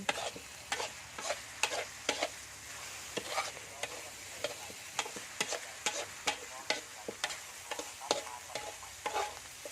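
Field rat being dry-roasted in a pan, with a soft steady sizzle under regular, close scraping strokes of a spatula stirring the meat over and over.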